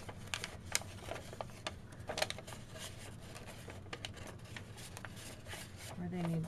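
Paper for a mini bag being folded and creased by hand, giving close, soft rustling and crinkling taps in quick irregular bursts.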